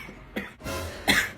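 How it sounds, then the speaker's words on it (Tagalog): A person gives two or three short, dry coughs up close, fairly quiet, with no other sound around them. "Parang inuubo na to ah."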